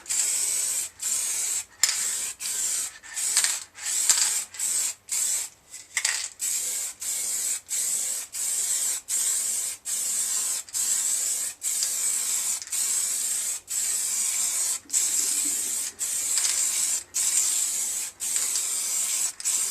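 Aerosol tint paint sprayed from a nearly empty can onto the screen of a Suzuki Bandit 1200S motorcycle in a home garage: a long run of short hissing bursts in a regular rhythm, close and alone.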